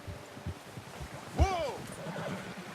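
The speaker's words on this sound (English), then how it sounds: "They can hear the goddamn horse." Horse in the Red Dead Redemption 2 western game gives a single short whinny with a rising and falling pitch, close by, over quiet ambient noise and faint background voices.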